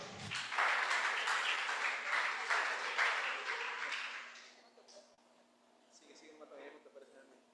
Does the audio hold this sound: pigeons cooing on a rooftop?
no